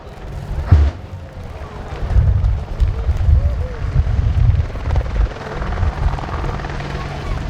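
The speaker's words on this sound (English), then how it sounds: "Ladies and gentlemen, the British Army Apache attack helicopter." British Army Air Corps WAH-64D Apache Longbow attack helicopter in a flying display, its thudding rotor and turbine roar building loud and steady with rhythmic low pulsing as it passes close overhead.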